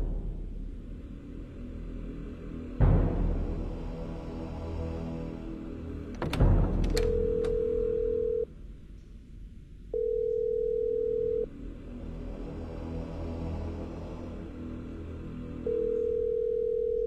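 A telephone rings indoors as a steady electronic tone sounding in three separated bursts over a low room rumble, with a couple of sharp knocks before the first ring.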